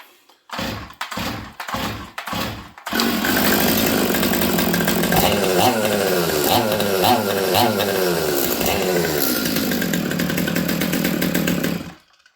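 A boggy Stihl MS200T chainsaw gives a few sharp pull-cord rips, then fires and runs loudly and close for about nine seconds, its revs wavering up and down before cutting off.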